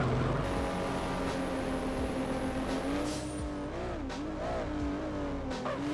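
A car drives in a first-person shooter video game, its engine droning steadily and loud with pitch rising and falling as it accelerates and shifts.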